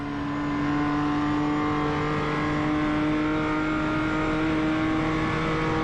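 A BMW M2 CSR race car engine in iRacing drones steadily at high revs, a strong continuous tone with layered harmonics holding loud and close throughout, faintly rising at the start.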